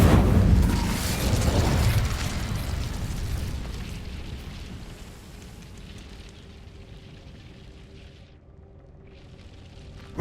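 Incendio fire spell cast in Hogwarts Legacy, a loud whooshing burst of flame that roars at first, then slowly fades into a long crackling, rumbling tail.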